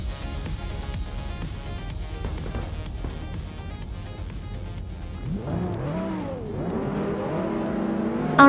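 Race cars roar through a video-game race at the Sebring track, engines droning steadily with rising and falling revs as cars pass close by, continuous and fairly loud with no talk.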